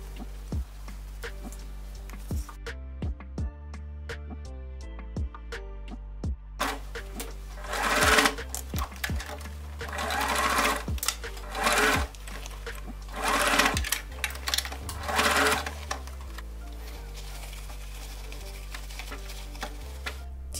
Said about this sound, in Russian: Скрепляем и прокладываем по кругу шов.